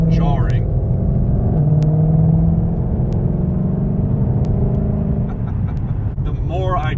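A 2020 Shelby GT500 cruises on the road with a low, steady engine rumble and tire drone beneath someone talking from inside the cabin.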